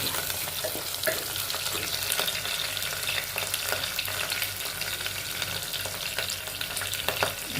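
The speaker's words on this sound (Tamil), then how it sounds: "கருவேப்பிலை போட்டு நல்லா தாளிக்கும்" Curry leaves crackle and sizzle steadily in hot oil while tempering for Tamil kootanchoru, a close, continuous frying hiss with small pops throughout.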